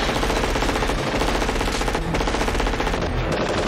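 Sustained machine gun fire from the 1988 action film Die Hard, a dense, loud, unbroken rattle of rapid shots lasting the whole stretch with no talk over it.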